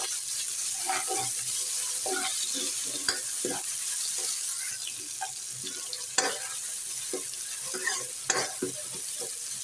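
Browned onions with ginger garlic paste sizzle steadily in a pan, a constant bright hiss broken by frequent short stirring scrapes and clinks, close and fairly loud with no talking.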